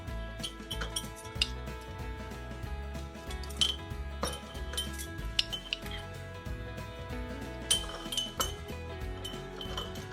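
Teaspoon clinking against glass canning jars while portioning into six jars, a series of light, bright clinks and taps at an irregular pace, fairly close, with no talking.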